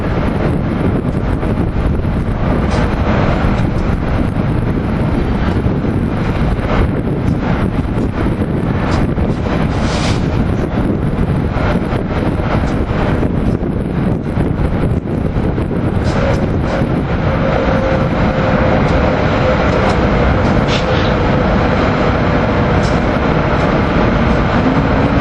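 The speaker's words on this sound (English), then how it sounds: "Train that just went over 8 minutes long" Long train rumbling steadily past at 30th Street station, a continuous loud low roar with wind buffeting the microphone and faint squeals near the end, no voices.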